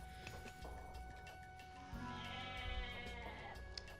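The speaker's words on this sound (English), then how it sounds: "Gonna use that goat for a little scout." Goat bleating in the real-time strategy game Age of Mythology, a bleat sounding over steady game ambience and other unit sounds, fairly faint in the mix.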